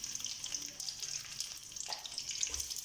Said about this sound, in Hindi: ये जब तक ऑयल गर्म होता है हम इसके अंदर प्याज ऐड कर लेंगे।